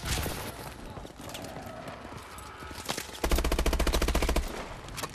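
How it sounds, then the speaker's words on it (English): Rapid automatic gunfire erupts from behind the player in Call of Duty Advanced Warfare, a close run of rattling shots over a busy mix of battle noise. "And who's shooting behind us?"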